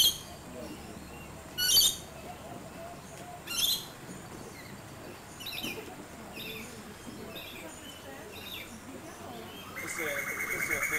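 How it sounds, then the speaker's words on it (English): Rainbow lorikeets calling from trees near a town marina and parks, with sharp bursts of chirps and screeches rising out of a busy background of bird chatter, plus a steady high whine building toward the end. "you hear all the birds and the trees going crazy and they're flying in and out. This is the rainbow lorikeets"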